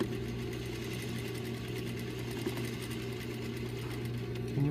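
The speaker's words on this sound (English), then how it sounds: "now I'm gonna sew at a 1/2 inch." A sewing machine runs steadily at moderate speed, stitching a half-inch sleeve seam with a continuous close whirring hum and no voices.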